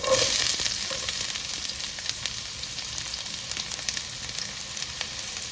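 Onions drop into hot coconut oil in a kadai for a Kerala beef roast. A loud burst of sizzling at the start settles into a steady, close, crackling fry that continues without talking.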